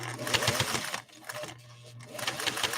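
A 1958 Singer 404 sewing machine stitches through two layers of fabric with the presser foot pressure raised, giving a close, steady mechanical whir and hum that pauses briefly partway through and then starts up again.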